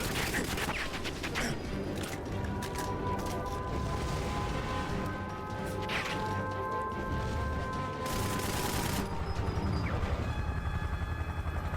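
Gunfire in GoldenEye 007 on the Wii, heard as sustained rapid bursts of automatic fire layered over the game's music and effects. Loud and continuous for the whole stretch, with a harsher crash near the end.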